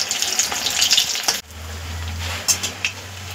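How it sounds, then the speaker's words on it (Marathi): Vadas for vada pav frying in hot oil and being flipped to brown on the other side, with a close, busy sizzle, a brief clatter of a utensil as they are turned, then a steadier bubbling fry. "तर हे आपण व्यवस्थित पलटी करून घेऊया। दुसरी पण बाजू अशीच गोल्डन ब्राऊन करून घेऊया आपण।"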